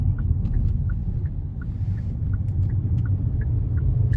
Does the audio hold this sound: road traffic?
yes